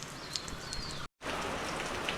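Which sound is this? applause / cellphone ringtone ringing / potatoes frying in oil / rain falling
rain falling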